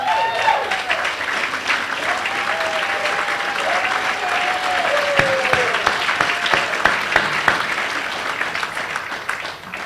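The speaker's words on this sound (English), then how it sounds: "Central Pride Committees, come on, stand up so we can give you a round of applause." The crowd at Central High's 180th Hall of Fame event gives the Central Pride Committees a sustained round of applause, with steady clapping for about ten seconds and a few sharper claps standing out near the end.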